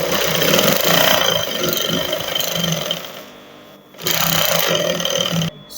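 Sewing machine stitching the crotch seam of a jumpsuit, a fast steady whirring run that pauses briefly near the middle, then resumes before cutting off near the end.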